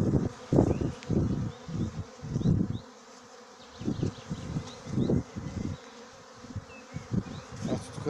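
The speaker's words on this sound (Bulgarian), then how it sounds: "Ето тук се опитват да влязат в един затворен кошер." Honeybees buzz densely around a closed hive they are trying to enter at an apiary, a continuous close insect drone rising and falling in repeated swells.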